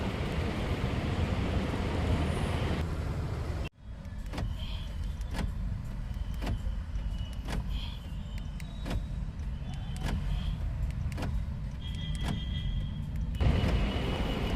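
A Honda City with a duplicated spare key: a series of short, sharp remote-lock clicks and beeps sound at steady intervals over a low, constant engine idle, with a brief cut partway through and no voices.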